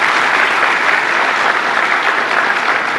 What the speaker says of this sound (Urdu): ڈائریکٹریٹ آف یوتھ افیئرز کے لیے بہترین تالیاں ہونی چاہیے